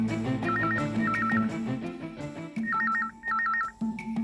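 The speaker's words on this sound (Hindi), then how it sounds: "फोन उठाओ।" A telephone trills in short repeated electronic bursts, two pairs of rings over a quiet musical background.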